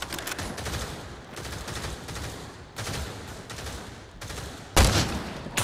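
Gunfire in the VR shooter Pavlov, played on PS5 VR2: a run of sharp shots with a bolt-action feel, fired one at a time with pauses between, loud and close, ending in a heavier blast near the end.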